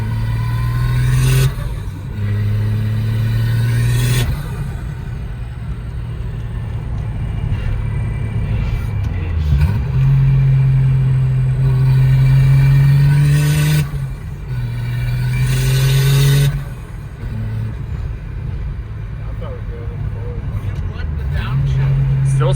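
A Mazda FC RX7 rotary engine being street tuned revs up and down repeatedly in loud, close swells over a rumbling idle, with people talking over it.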